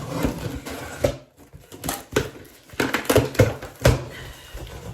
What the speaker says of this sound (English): let's open up this box